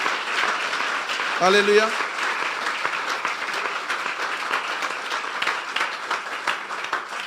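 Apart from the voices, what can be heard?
church congregation clapping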